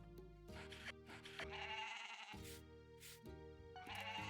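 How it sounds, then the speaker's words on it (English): Cartoonish goat bleats from the farm-life game Story of Seasons: Olive Town, several short nasal calls in quick succession over a steady, cheerful backing melody. "Here's your goat."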